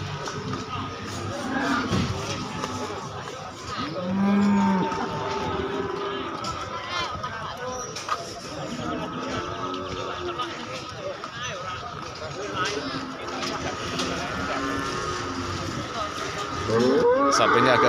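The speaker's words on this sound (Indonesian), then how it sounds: "Sapinya agak keras ini" Cattle moo loudly at close range at a livestock market, Pasar Paing in Pati, amid shuffling and a busy crowd of voices talking over them.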